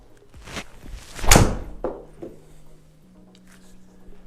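A golf ball is struck with a regular playing driver, not a long-drive club, during a launch-monitor comparison. One sharp, close impact rings out, followed by faint rustling and a low steady hum.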